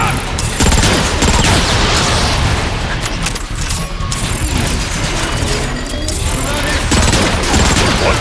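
Dense gunfire, rocket blasts and grenade explosions from Transformers: Fall of Cybertron pound continuously and loudly, with mechanical clanks throughout and a voice shouting over the battle.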